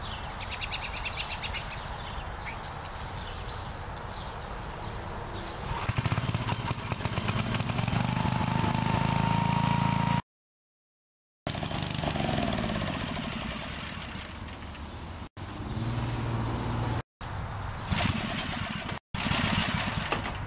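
A small pull-start engine catches and runs with a loud, rough, steady drone close by, with birds faintly in the background. The sound is broken by several abrupt cuts.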